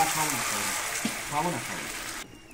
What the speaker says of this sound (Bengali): এবার দিয়ে দেব আমি জল